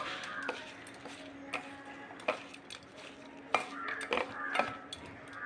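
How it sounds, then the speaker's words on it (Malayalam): Garlic, shallots, green chillies and curry leaves are stirred in a pan, a spoon clinking and scraping against the metal in uneven strokes over a soft sizzle, close and moderately quiet, no voices. "ഇത് ഒന്നൊന്ന് മിക്സ് ചെയ്യണം."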